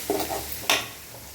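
Gongura chutney being mixed into food in a pan, a couple of short, soft scraping stirs with a light sizzle underneath, close and quiet, no talking.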